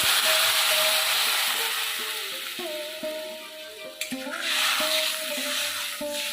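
A small amount of water goes into a hot pan of very young hog plums, giving a steady sizzle and bubbling frying hiss with scattered stirring clinks, close and fairly loud.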